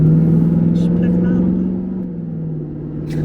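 A Dodge Magnum 5.7L Hemi engine with no exhaust fitted idles with a steady low rumble, then settles slightly quieter, with no one talking over it.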